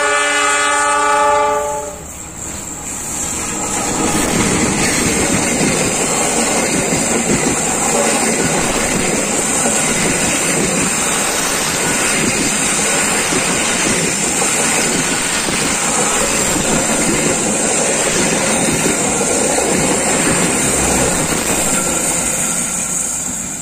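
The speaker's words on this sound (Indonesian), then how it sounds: "Kereta api Argo Wilis melintasi jembatan Cirahong menuju ke arah stasiun Manonjaya" A train horn sounds briefly, then the Argo Wilis passenger train rumbles steadily across the Cirahong bridge in Indonesia with rhythmic clattering wheels and a hollow, echoing roar.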